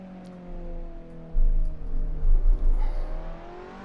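A car engine downshifting in the Assetto Corsa racing game, the revs blipping and surging in several uneven bursts with tonal engine harmonics over low rumble; no talking.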